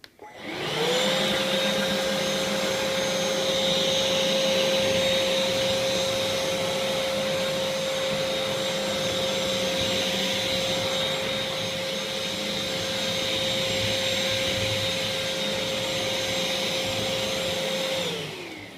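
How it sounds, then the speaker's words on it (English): Vax Blade 32V cordless vacuum cleaner sucking flour off a floor: a steady, loud motor whine with a constant high tone and airy rush that starts abruptly and holds evenly for about eighteen seconds, with no talk. "I'll just hoover up the flour just to show you how well it works."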